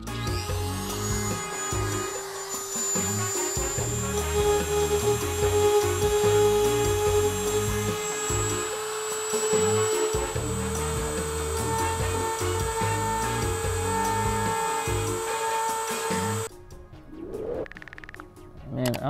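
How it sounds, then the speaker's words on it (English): A Dremel fitted with a 463 rubber burr whines at a high, steady pitch while grinding rusty, chipped car paint, loud and close for most of the clip before it spins down near the end. "I put on this Dremel 463 rubber burr just to get a little bit more"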